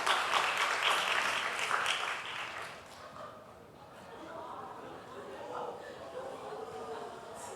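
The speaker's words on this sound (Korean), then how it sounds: "큰 박수로 맞이해 주시기 바랍니다." Church congregation applauding to welcome performers for a special song at a worship service, broad clapping loud at first, then easing into softer scattered clapping and murmuring.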